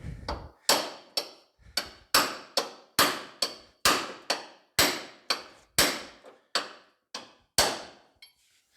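A hammer taps an aftermarket body panel on a 1970 Camaro, roughly twenty sharp metallic strikes in a steady, even rhythm, each ringing briefly before the next, close and fairly loud.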